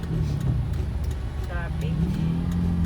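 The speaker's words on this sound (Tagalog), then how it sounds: "Traffic." Road traffic with cars passing near a supermarket in Tanauan, Batangas, a steady engine rumble with one vehicle swelling by, while people chat nearby.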